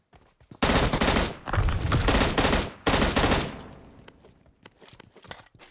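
Gunfire in the mobile shooter PUBG Mobile: two long, loud bursts of rapid automatic shots, separated by a short pause, then scattered quieter single shots.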